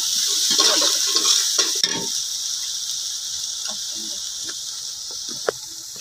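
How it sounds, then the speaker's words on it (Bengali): Garlic and oil frying in a pan for a hog plum pickle, stirred so that a bright steady sizzle runs throughout, with scraping spoon strokes early on and a single sharp tap near the end. "একটু ভালো করে নেড়ে চেড়ে নিতে হবে যেন কাঁচা গন্ধটা চলে যায়"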